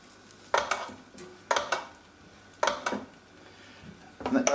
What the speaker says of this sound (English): just take the dish out of the oven and put some oil on